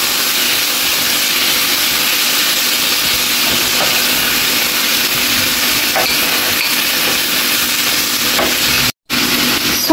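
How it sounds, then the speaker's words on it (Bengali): A tofu roll filling fries in sauce in a pan with a loud, continuous hiss and crackle that holds steady throughout, broken only by a brief gap near the end. "সস দেওয়ার পরে আমি 1 মিনিটের মতো ভেজে নেব।"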